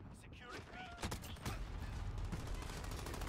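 Gunfire in Call of Duty: Modern Warfare: a short burst of sharp shots and a mechanical clack, faint and quickly over, with game noise behind them.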